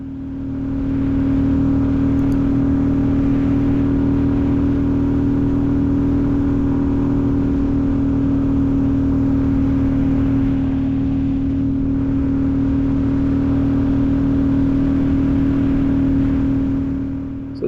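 A Royal Enfield Classic 350 on stock gearing runs at about 60 with the throttle near its stop, a steady, unstrained engine drone at constant pitch under heavy wind rush, with no talk.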